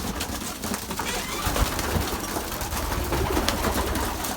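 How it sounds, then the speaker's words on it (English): Homing pigeons burst from an opened loft door, a dense flurry of wing flaps and coos filling the air close by, steady and busy throughout, with a voice speaking over them. "I'll just release the first round birds."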